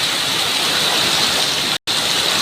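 Unusually heavy rain and strong wind roar in a steady, dense wash of noise, loud and close, with one abrupt brief dropout near the end.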